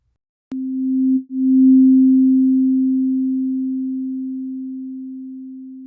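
A click, then a pure, steady sine tone that briefly dips out and returns before sustaining and slowly fading.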